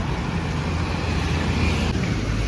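A loaded delivery vehicle pulls up with a steady, broad engine and road rumble that stays fairly loud and constant throughout, with no talk over it.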